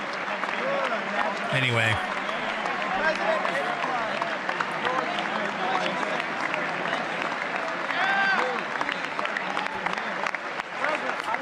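Applause fills the chamber during a presidential address to Congress, a dense, continuous clapping crowd with voices talking over and through it and a brief louder burst near the start.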